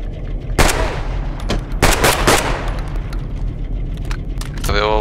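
Rapid bursts of gunfire from an invisible gun in the VR game BoneLab, loud and close in several clusters, with game sounds and a voice coming through between volleys.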